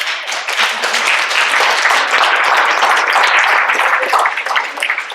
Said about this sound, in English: you can do that with applause